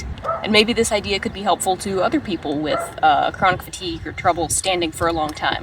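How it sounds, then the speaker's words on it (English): A dog barks in short yips and bow-wows beneath a person talking steadily close to the mic, the barks intermittent and partly masked by the voice. "You can probably hear him barking."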